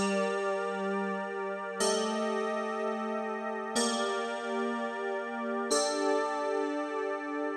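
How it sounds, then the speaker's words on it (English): Four sustained electric piano chords from an Arturia Analog Lab preset, in a mysterious Middle Eastern-flavoured progression, each struck cleanly and ringing about two seconds before the next, warm and moderately soft with no talking. "For the synth of these chords, I'm actually using an analog lab from Arturia with this bad E piano preset."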